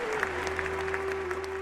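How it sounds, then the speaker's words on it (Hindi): Brief audience applause at a Hindi poetry recital featuring Kumar Vishwas, a moderate, even patter of clapping under a steady background hum. "आपकी तालियां बता रही थी"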